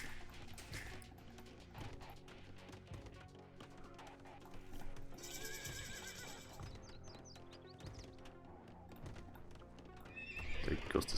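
Horses at a stable in a real-time strategy video game neigh and whinny amid clip-clopping hooves and busy battle clatter, with a sharp crash toward the end.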